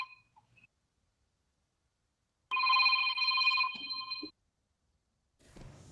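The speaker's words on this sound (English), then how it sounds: "someone's receiving a phone call" A telephone rings inside a computer game, a sustained electronic bell tone lasting about two seconds. It sounds clear and fairly close, set against near silence with faint noises before and after.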